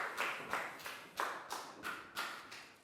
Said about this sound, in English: High five and a big round of applause for Lakgao